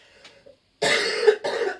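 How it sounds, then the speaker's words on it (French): After a faint breath, a person coughs twice nearby, harsh and loud, with a brief pause between. "Excusez-moi, je vais tousser."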